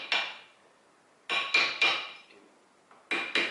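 A hammer tapping car brake pads into position in a caliper, heard as sharp metallic clinks in close, uneven pairs and clusters separated by short pauses, with no talking.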